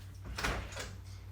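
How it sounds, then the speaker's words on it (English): A dog knocking on a house door to be let in: a few soft thumps against the door over a low steady hum, with no talk. "Anyone else's dog knock on the door when they want to come in?"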